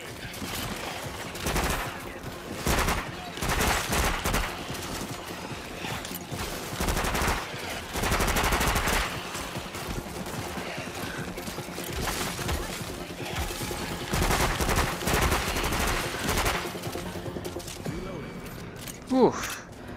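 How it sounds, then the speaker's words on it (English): Repeated heavy shotgun blasts and bursts of gunfire from the After The Fall VR game, loud and dense across the stretch, with players talking over and between the shots. "Shotgun comes in so handy for stunning those guys."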